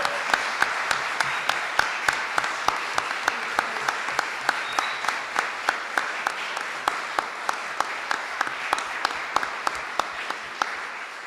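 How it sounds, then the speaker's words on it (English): Audience applauding panelists at a panel discussion on Latino, Latinx and Hispanic labels, a steady sustained wash of clapping lasting throughout, with a few sharper claps standing out above the crowd. "Can we get a round of applause for our panelists?"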